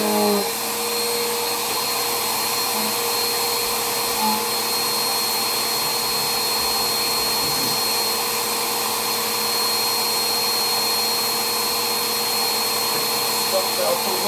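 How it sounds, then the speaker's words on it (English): A vacuum cleaner runs steadily inside a bedroom closet, its loud continuous motor whine and airflow roar holding at an even level from start to finish. "And now I'm gonna vacuum my closet."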